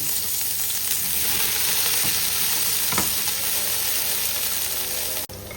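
Onion and ginger fry in about two tablespoons of oil in a pan with a loud, dense, continuous sizzle, close-up, with a brief dip near the end.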